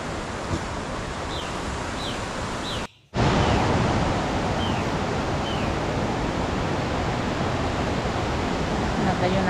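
A river beside a trail leading to waterfalls gives a steady, loud, broadband rush. The sound cuts out briefly partway through, and a few faint bird chirps rise above the water.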